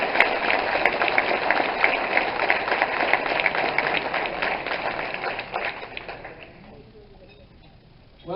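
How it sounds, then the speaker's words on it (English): Audience applause at a 2019 Hall of Fame induction ceremony in a hall: sustained dense clapping from a crowd, fairly close, fading out over several seconds before a voice begins. "Give them a round of applause"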